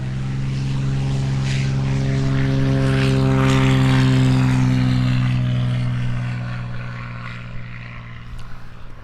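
Single-seat all-carbon-fibre aerobatic propeller plane at a British aerobatics championship, its engine a steady droning hum that swells and then fades as it climbs away, continuous and fairly loud with no voices.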